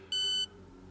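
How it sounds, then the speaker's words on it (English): Gear up-change tone in the F1 25 racing game: one short, bright electronic beep, clear and fairly loud over a low engine-like hum that carries on after it. "up-change tone is beeping"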